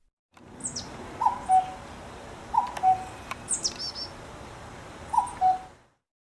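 A cuckoo repeats its two-note call three times at an even, unhurried pace, soft and somewhat distant. A few faint high chirps from other birds sound in the background.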